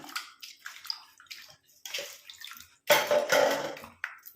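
Fresh Mexican mint leaves are swished and rinsed in water by hand, making uneven bursts of splashing and sloshing with drips between them. A louder stretch of churning water comes near the end.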